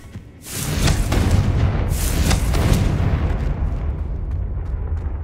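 A Confringo fire-blast spell explodes in Hogwarts Legacy, a loud, broad boom bursting in and rolling on, with a second blast swelling about a second and a half later before the rumble slowly fades.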